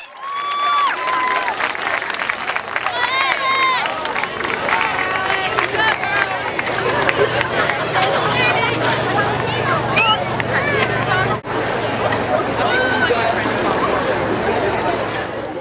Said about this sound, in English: and the crowd celebrated for her.